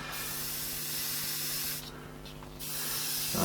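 Continuous airbrush hiss of paint spraying through a shield, loud and steady, briefly cutting out for under a second before resuming.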